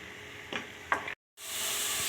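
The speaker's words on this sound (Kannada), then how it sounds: "ಆನಿಯನ್ ಪೇಸ್ಟ್ ಹಾಕಿದ್ದೀನಿ. ಅದು ಚೆನ್ನಾಗಿ ಹಾಗೆ ತಿರುಗಿಸಿ ಕೊಡಬೇಕು." Onion paste fries in a pan for dhaba-style egg gravy with a steady close hiss, broken by a couple of quick spoon scrapes while it is stirred. After a brief silent gap, the sizzle returns.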